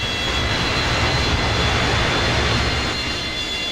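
Boeing 727 engines roaring under thrust reversers in the FlyJSim flight simulator, a steady broad loud rush of jet noise with a faint high whine, constant throughout.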